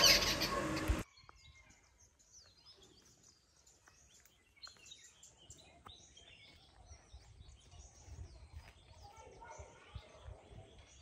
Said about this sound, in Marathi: कोणी ओळखलं की या पक्ष्यांना?